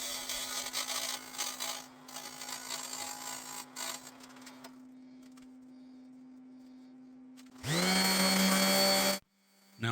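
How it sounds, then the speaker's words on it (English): Lathe tool shaves wood and epoxy from a turned candle holder, a humming lathe with rough scraping that fades out, then a loud rising motor burst near the end. "I grabbed this tool and started shaving off wood and getting that epoxy off"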